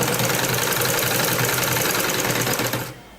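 A sewing machine runs loud and steady, stitching a sleeve with a fast, even mechanical rattle for about three seconds, then stops abruptly.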